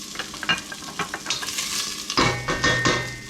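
Chopped onions sweat and sizzle in a hot pan while a utensil stirs them, steady frying hiss with scraping and clinking against the pan, close and moderately loud with no talking.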